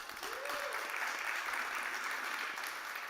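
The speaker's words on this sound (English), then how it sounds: "Let's give them a big round of applause." A conference audience at a startup summit stage claps in a steady, fairly faint wash of applause, with a brief rising tone near the start.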